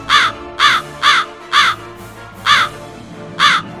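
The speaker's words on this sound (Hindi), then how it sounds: "कौवा की काव सुनकर उसके साथी कौवे भी वहाँ पर चला आया।" A crow caws six times in a loose rhythm, each call loud, harsh and close, with quiet gaps between the caws.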